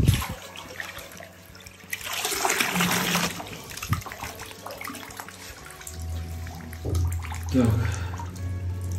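A professional pump drains water from a flooded cellar, with steady rushing, splashing water over a low motor hum that swells in the last few seconds, while a person talks nearby.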